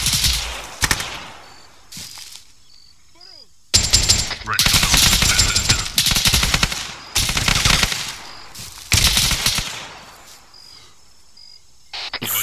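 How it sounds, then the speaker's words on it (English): Loud bursts of machine gun fire in Arma 3, several long sustained volleys separated by brief pauses, sharp and close, with faint insect-like chirps in the quiet gaps between bursts. "I'm gonna start shooting at you"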